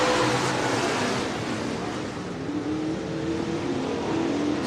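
Stock cars racing at Buena Vista Raceway, a steady loud roar of engines that dips slightly midway and swells again as cars pass, with no voices.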